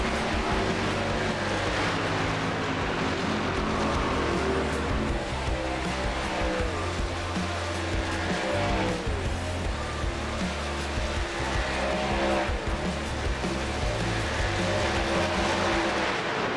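A pack of NASCAR trucks circles Talladega in iRacing, a loud, continuous roar of engines with shifting pitch as they pass, holding steady for the whole stretch.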